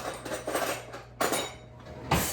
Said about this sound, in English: You're gonna get one of your baking sheets